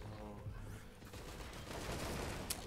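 Rapid bursts of gunfire from the video game Risk of Rain 2, fairly faint and mixed into a busy game soundscape, with a sharp louder crack near the end.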